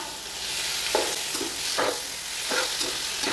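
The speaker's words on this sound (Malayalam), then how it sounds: "നന്നായിട്ട് ഇളക്കി കൊടുക്കാം" Chicken biryani masala, with coriander and curry leaves added, is stirred in a pan: a steady frying sizzle broken by four or five distinct scraping strokes of the spoon, close and fairly soft.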